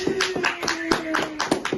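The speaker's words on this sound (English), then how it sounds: "Clap, guys." Several people clap hands close by in a quick, uneven burst of sharp slaps, with a sung tone drifting faintly beneath.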